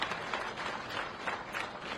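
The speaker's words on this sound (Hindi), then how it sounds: "मैं चाहूंगी कि एक बार जोरदार तालियां आप सभी के लिए बजाइए" Audience applause at a Delhi fire department event attended by the chief minister, a brief burst of scattered clapping that stays fairly even and moderately distant throughout.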